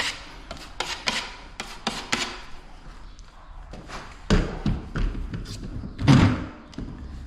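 Plaster is pressed and scraped with a trowel over plasterboard screw holes, giving a run of short rasping strokes and soft thumps, irregular and close.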